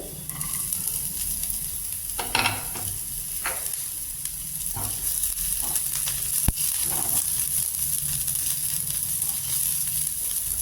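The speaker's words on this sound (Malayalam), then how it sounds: "നമ്മൾ കട്ട് ചെയ്ത് വെച്ചിട്ടുള്ള സ്പ്രിംഗ് ഓണിയൻ ചേർത്ത് കൊടുക്കാം. അതുപോലെ തന്നെ പച്ചമുളകും ചേർത്ത് കൊടുക്കാം." Spring onion, small green chillies and garlic frying in a pan for a ripe mango dip, a continuous hiss of sizzling with a few scrapes and taps as the pan is stirred, no voices.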